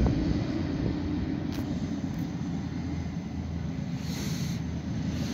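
A Beechcraft King Air 200C taxiing at an airfield, heard as a steady, continuous low engine rumble and propeller drone holding at a constant level throughout.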